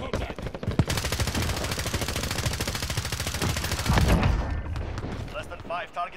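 Rapid automatic gunfire from a video game, dense bursts of shots that run almost without a gap for about four seconds, then fade as a voice speaks over the tail.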